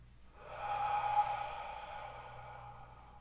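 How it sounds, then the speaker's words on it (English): A single slow breath is drawn in close against the palm of a hand, a soft airy rush that swells and fades over about two seconds in an otherwise quiet room. "So taking your palm and just breathing in"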